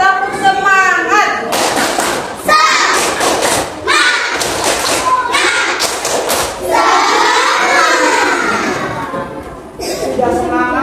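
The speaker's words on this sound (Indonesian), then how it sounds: "Tepuk semangat." Schoolchildren in a classroom do a rhythmic spirit clap. Bursts of patterned clapping alternate with group chanting, loud and close, and the sequence repeats several times over about ten seconds.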